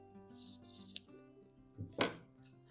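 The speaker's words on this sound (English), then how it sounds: "Let me trim this off." Scissors trimming fabric for a quilt block make a couple of quick, crisp snips close by over a faint steady hum, with soft rustling of cloth.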